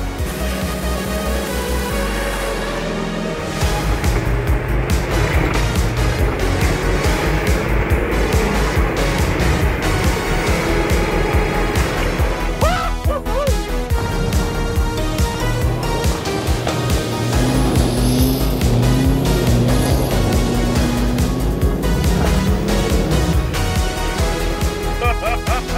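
A 1984 Chevrolet C10 prerunner truck with a Duramax diesel makes a four-wheel-drive launch. After a brief lower idle, a loud, close engine roar rises suddenly and holds for over twenty seconds, its pitch shifting as the truck accelerates.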